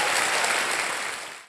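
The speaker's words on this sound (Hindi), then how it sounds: "एक बार जोरदार तालियां बज जाए अनुजा जी के लिए" Loud, dense applause from a television quiz show studio audience, one steady burst of clapping that holds for over a second and then fades out quickly.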